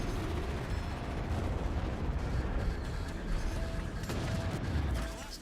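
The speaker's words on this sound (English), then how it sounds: "Can we get these before they explode in the cutscene? No, I think those are just cutscene torpedoes." Torpedoes blow up during a cutscene in the space combat game Strike Suit Zero: a continuous heavy rumble of explosions and debris crackle, with sharper blasts breaking through near the end.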